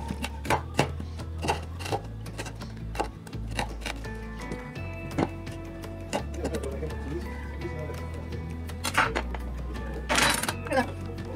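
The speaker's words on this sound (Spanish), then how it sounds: "Lo voy picando." A knife chops ají pepper on a cutting board at home, with sharp, irregular taps spread through the clip, some close together and some spaced apart, among clinks and background noise.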